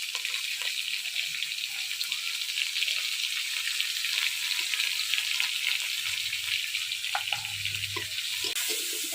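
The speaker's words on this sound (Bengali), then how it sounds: "এই দেখেন ফুলকপি কত সুন্দর করে ভাজা হয়ে গেছে" Cauliflower florets fry in hot oil in a pan, giving a steady, even sizzling hiss that stays close and fairly loud with no pauses, alongside a few faint clicks and a low hum near the end.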